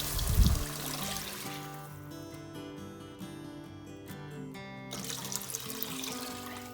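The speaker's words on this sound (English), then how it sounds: "Next, I added 4 cups of water." Four cups of water poured into a pot of rice with chili powder and turmeric for a one-pot vegan meal, a steady close trickle and splash running the whole time with no talk.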